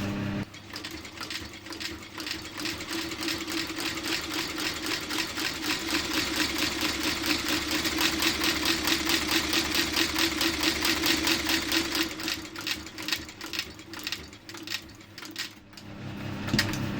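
A cobbler's stitching machine runs steadily through a leather shoe sole, a fast, even mechanical whirring and clatter that swells and stays loud for most of the stretch before easing into irregular knocks near the end.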